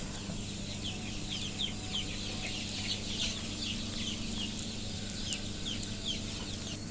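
Young chickens about 27 days old chirp and cluck in a brooder under a red heat lamp, a steady chorus of many small peeping calls over a constant low hum, with no talking.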